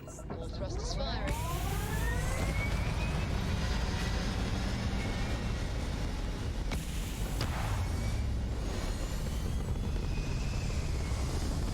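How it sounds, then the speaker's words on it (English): Spaceship thrusters firing in Starfield video game, a sustained loud engine roar with rising whooshing sweeps, continuous throughout, while someone talks over it. "All thrusters firing."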